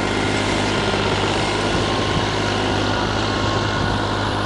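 A Fiat 480 tractor, a 2018 model, runs under load while ploughing with a 13-tine plough, its engine giving a steady, loud, continuous drone with no talk over it.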